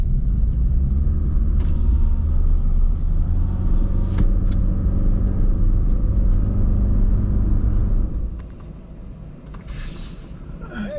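Steady traffic rumble of a slow vehicle convoy heading toward Acapulco after a hurricane, dense low engine drone filling the scene, easing off and quieter in the last few seconds.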